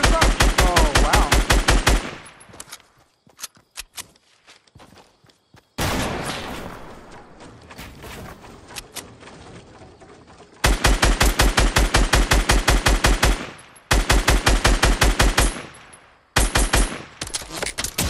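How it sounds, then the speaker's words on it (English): Fortnite gunfire: bursts of rapid automatic shots in dense, evenly spaced rounds, broken by quieter stretches of building and movement noise, loud and close throughout. "Keep shooting, boss."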